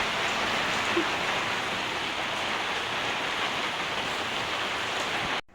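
Heavy rain pours down in a constant dense roar of drops hitting surfaces, loud and close, steady for the whole stretch with no talking.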